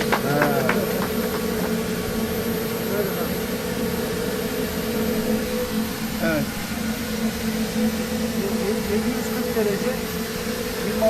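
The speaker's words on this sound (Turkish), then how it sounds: "bugün TÜBİTAK desteğiyle geliştirilmiş TC300 motorunun bir turbojet motorun ateşlemesini gerçekleştirdik" A TC300 turbojet engine, developed with TÜBİTAK support for an anti-ship missile, undergoing an ignition test: a continuous, steady whining hum with a high thin tone running throughout, with people talking over it.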